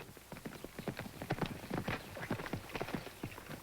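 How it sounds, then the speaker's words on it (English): Horse hooves clip-clop in a steady run of sharp, fairly close strikes on hard ground, one horse a fine-looking stallion, with no talk over them. "Hey, now, there's a real horse."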